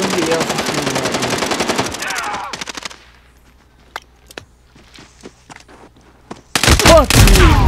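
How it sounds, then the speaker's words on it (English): Gunfire in Call of Duty Warzone: a loud rapid automatic burst for about two seconds, then scattered single shots and faint footsteps, ending in another heavy close burst of fire. "Somebody else is shooting at me."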